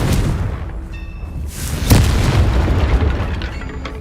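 A blasting-curse spell explodes in the game Hogwarts Legacy: a sudden loud boom bursts out after brief chiming effects, then a rumbling tail fades under scattered game sounds.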